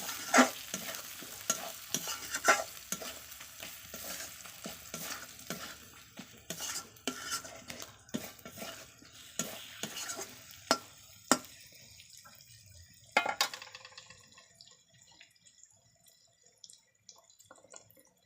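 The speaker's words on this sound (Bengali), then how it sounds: "এখন আমি দিলাম লঙ্কার গুঁড়ো কাশ্মীরি লঙ্কা একটু ভালো করে কষিয়ে নেব" Kashmiri chili powder stir-fried in a pot over a wood fire, a soft steady sizzle under repeated metallic spoon scrapes and taps on the pot, close, fading toward the end.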